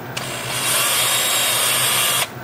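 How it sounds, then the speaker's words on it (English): Small 2-inch disc sander running against a rhododendron root wooden bowl, a brief high-pitched whine that starts abruptly, builds slightly, holds steady for about two seconds and cuts off, close and loud. "I'll grab my 2-inch disc sander and attempt to"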